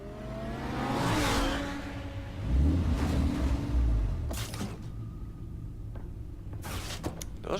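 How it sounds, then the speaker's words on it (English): A car in the Batman Telltale Series game engine-whirs and accelerates, then brakes with a whooshing swell and sharp transient clicks near the end, loud and up close with no talk. "Those are some good brakes on that car, I have to say."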